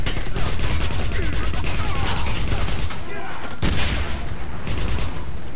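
Rapid bursts of automatic gunfire and shots ring out in the video game Wolfenstein, loud and dense with brief pauses, near and punchy.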